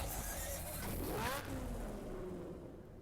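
A Mazda RX-8 engine in the racing game Need for Speed Hot Pursuit gives a steady, faint synthetic drone with a brief rising rev partway through, set under a soft wash of game audio.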